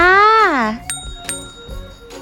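A notification bell sound effect plays as a subscribe reminder at the end of a Thai cooking review: a bright, ringing chime sweeps across the opening second, then gives way to quieter talk.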